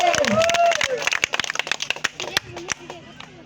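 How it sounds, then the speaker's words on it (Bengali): Applause breaks out for the champion at a Saptagram T20 cricket tournament prize ceremony, many claps crackling in a dense burst that thins out, with a voice over a loudspeaker at the start. "একটা জোরে হাততালি হোক এই টুর্নামেন্টের চ্যাম্পিয়নের জন্য।"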